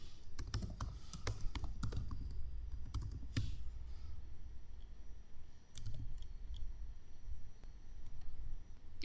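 Fingers type an address on a computer keyboard, a quick run of close, crisp key clicks in bursts with short pauses, no talking.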